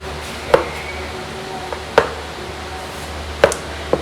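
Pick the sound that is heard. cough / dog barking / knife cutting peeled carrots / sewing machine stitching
knife cutting peeled carrots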